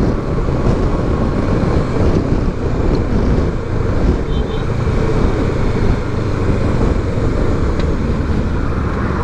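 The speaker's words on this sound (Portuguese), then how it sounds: "estou escutando aqui um barulho de vento violento." Violent wind roaring inside a not very quiet motorcycle helmet while riding on the road, a loud, constant, dense rush that never lets up.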